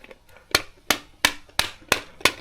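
A hammer strikes a part of a DIY camera mount six times in an even, steady rhythm, each blow a crisp close knock with a short decay, with faint handling noise before the first hit.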